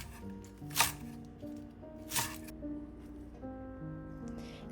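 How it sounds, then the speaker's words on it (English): A kitchen knife cuts cabbage into strips on a board for a beef and udon stir fry, giving two sharp, crisp chops a second or so apart. Quiet background music plays under them. "Cut the cabbage into strips."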